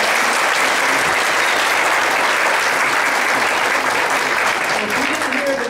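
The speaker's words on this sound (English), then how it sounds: "Give them a round of applause." A church audience at a spring musical gives a loud, steady round of applause for a children's choir, dense clapping that holds evenly throughout.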